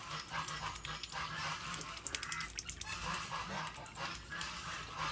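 A duck at a farm animal sanctuary quacks and honks repeatedly in short bursts, close by, over steady background noise with other fowl sounds.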